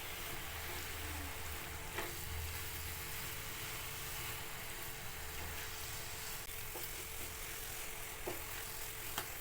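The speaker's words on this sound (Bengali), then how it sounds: "লো হিটে 2 থেকে 3 মিনিট আমি এইভাবে জাল করে নেব।" Blended semolina dry-roasting in a pan on low heat, giving a faint steady hiss with soft scraping stirs and occasional light ticks, quiet and continuous with no one talking.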